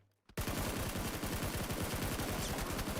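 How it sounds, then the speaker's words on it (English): Sustained rapid automatic gunfire in the battle royale game PUBG, heard during an esports event broadcast: a dense, continuous burst of shots that starts abruptly after a brief quiet moment and stays loud to the end. "Gunshots coming in fast from WC NG."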